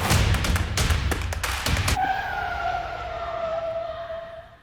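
A scooter brakes hard on a smooth indoor floor: a burst of rattling thumps as it rolls, then a long tonal tire squeal that fades away over a few seconds.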